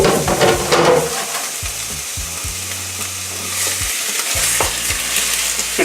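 A pound each of ground sirloin and ground chuck sizzles and fries in a pot for chili, with steady crackling and the scrape of stirring, close and fairly loud throughout with no talk.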